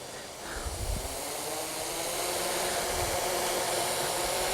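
Motors of a 550-size hexacopter spin at idle throttle, giving a steady broadband whir and hiss, close and fairly loud, that holds even throughout with no talk over it.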